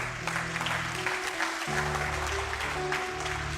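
A church congregation applauds during a sermon, a steady wash of clapping mixed with a sustained organ or keyboard chord underneath and a few voices.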